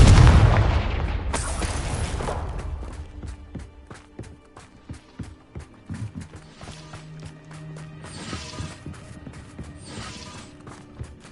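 A Confringo blasting spell detonates in a wizard video game with a loud boom at the start, followed by a decaying rumble, then scattered mechanical clicks, creaks and smaller impacts.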